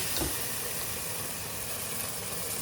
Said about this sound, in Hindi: इधर मीट भून रहा है हमारा और इधर मसाले भून रहे हैं।